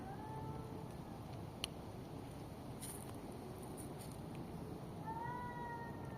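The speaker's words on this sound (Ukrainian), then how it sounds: "Коти співучі, коти співаки." Cats yowl and meow in a building's courtyard, with drawn-out rising wails at the start and again near the end, heard at moderate distance over faint wind and background hum.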